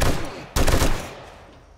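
A sudden loud burst of gunfire in the survival game 7 Days to Die, several rapid shots packed into half a second, then a decaying rumble and ambient noise.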